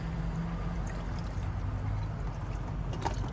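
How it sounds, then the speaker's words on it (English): Water is poured into a coffee maker inside a Honda Element camper, a soft steady splashing and gurgling that runs continuously at low volume. "pour the water in"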